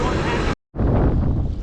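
Loud wind buffets the microphone aboard a Stage 2 RXP X300 jet ski on choppy water, a roaring rumble with a brief dropout of silence partway through.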